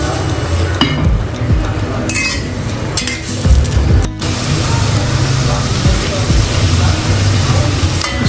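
Onions fry loudly in oil in a pot for a pea and potato pulao, a dense continuous sizzle punctuated by metal spoon clinks and scrapes against the pan.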